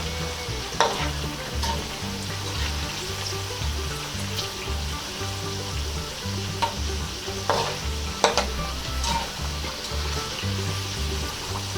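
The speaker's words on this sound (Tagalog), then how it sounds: "Basta haluin nyo lang po siyang mabuti." Sweet potato chunks stirred in melted brown sugar as they fry: a continuous close sizzle with scattered scraping clicks from the spoon against the pan.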